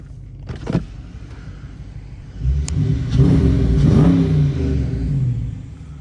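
A 2022 Dodge Challenger R/T Plus revs at night, a short whir and click giving way to a loud, rising engine and intake roar that holds steady, with no talking.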